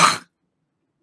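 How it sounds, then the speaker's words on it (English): A single short, sharp cough, close and loud, followed by silence. "I just cough."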